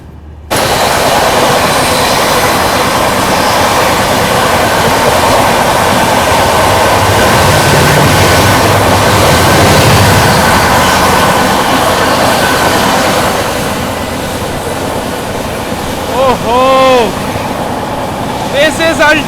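A train pulls out of Chola railway station, heard from on board as a loud, steady rumble of wheels and carriages that eases slightly toward the end, with a few faint tonal squeals near the close.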